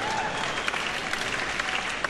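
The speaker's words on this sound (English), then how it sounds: "I don't see how you can applaud a disease like that" Audience applause at a 1973 concert, a steady dense wash of clapping from a large crowd filling the whole stretch at moderate level, with no voices standing out.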